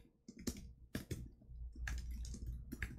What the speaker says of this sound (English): Just a lot of typing, honestly.